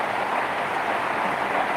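A dense, steady hiss of heavy rain pours down without pause, loud and close, with no voices.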